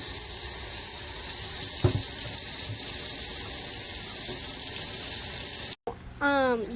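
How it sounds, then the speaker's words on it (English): Cut potatoes for French fries are rinsed under running water, giving a steady splashing hiss with a few knocks. A short burst of different noise comes at the very end. "So you want to like rinse it several"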